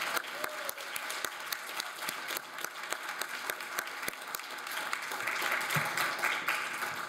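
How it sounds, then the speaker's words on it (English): Audience applause at an outdoor poetry reading by young poets at a botanic garden, a steady sustained patter of many hands clapping that swells toward the end, with no talk over it. "can we have a combined applause for the next generation of American poets?"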